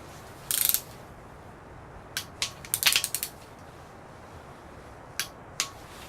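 A torque wrench clicks as nuts are tightened on ARP main studs for a GM 6.5 diesel crank, sharp metallic ratchet bursts in small clusters with quiet gaps between, close and fairly crisp.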